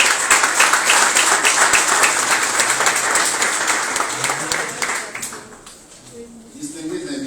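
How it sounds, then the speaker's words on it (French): Sustained audience applause after a closing speech at a conference, dense and steady clapping for about five seconds before fading into quieter room noise. "cela mérite également d'être applaudi"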